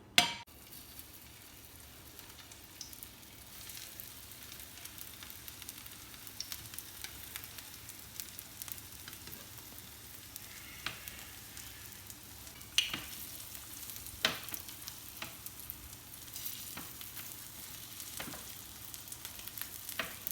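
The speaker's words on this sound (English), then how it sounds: "We're just going to shallow fry the hash browns." Hash browns shallow frying in oil for an egg Florentine, a quiet, steady sizzle and crackle with occasional sharper pops and faint pan clinks, no talking.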